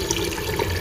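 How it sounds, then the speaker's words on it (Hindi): Water from a jug splashes steadily into a cooking pot for a goat trotters curry, a brief continuous pouring rush up close. "मैंने 2 जग इसमें पानी के ऐड किए हैं।"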